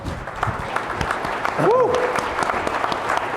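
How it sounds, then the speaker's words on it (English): Audience applause at a legislative panel roundtable, brisk steady clapping from a crowd with a whoop and a shout rising above it midway. "How about a round of applause for that guy?"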